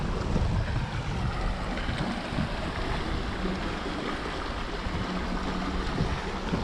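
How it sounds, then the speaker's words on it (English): A sailboat under way on the open sea near Komodo Island, Indonesia, with a steady wash of water and wind noise along the hull, continuous and fairly loud throughout, no talking. "Having a beautiful sail now though."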